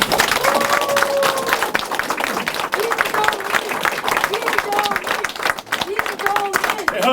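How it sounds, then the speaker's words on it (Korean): Audience applause at an outdoor campaign rally in Anyang for a party general election chief, dense sustained clapping from a crowd with voices and cheers mixed through it. "대한민국과 안양의 미래를 제시해 주신 김종인 총괄 선대위원장님께 큰 박수로 환영해 주시기 바랍니다"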